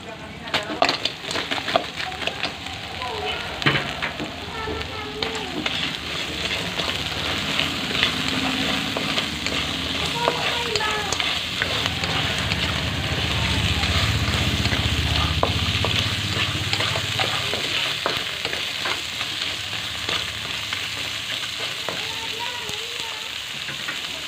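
Crab frying and being stirred in a pan with onion and ginger, a loud steady sizzle with scraping and clattering stir strokes throughout, close and continuous.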